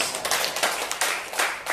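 A church congregation at a Jakarta worship service claps for Jesus in steady, rhythmic unison, the moderately soft claps landing in even beats, with no voices.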